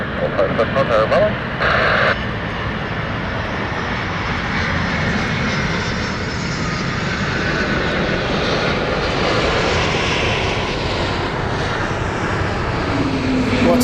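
A passenger airplane landing at London City Airport on a misty day, its engine roar loud and steady for the whole stretch, with voices talking over the noise.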